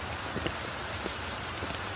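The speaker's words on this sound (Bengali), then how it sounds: "এখন বৃষ্টি পরিমাণ বেশ বাড়ছে" Steady rain falls on a rooftop, a dense, even hiss with scattered nearby drop taps, close and fairly loud, without any voices.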